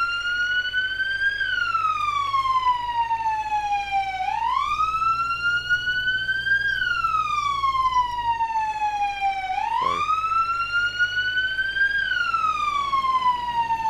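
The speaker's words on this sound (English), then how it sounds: "Now, this siren will get a little irritant after a little bit," A battalion emergency vehicle siren in the video game EmergeNYC wails continuously, sweeping slowly up and down in long cycles, loud and close over a low engine drone, with a brief blip midway.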